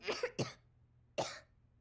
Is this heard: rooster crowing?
no